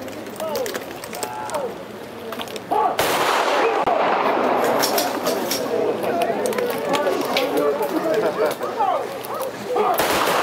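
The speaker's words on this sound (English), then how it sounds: "One gun salute." A single ceremonial gun fires at a state funeral for a former Governor General, one sudden loud blast that rings out over the crowd's ambient noise, with voices heard around it.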